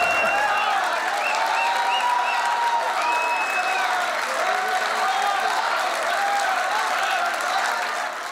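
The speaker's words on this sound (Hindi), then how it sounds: "भाई अब तेरी ताली बजाए" An audience applauds steadily throughout at an Eid poetry mushaira, a dense, sustained wash of clapping from a large crowd with some voices mixed in.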